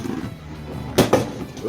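A Beyblade Burst QuadDrive top ripped from its launcher: a short burst of low rumble, then two quick sharp snaps close together, heard up close with no talking.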